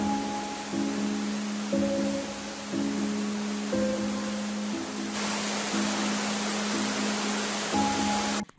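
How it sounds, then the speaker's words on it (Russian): A waterfall rushes behind a dojo in the anime One Punch Man as a steady, dense hiss. Faint tonal hums come and go underneath, and no one speaks. "За додзё водопад шумит"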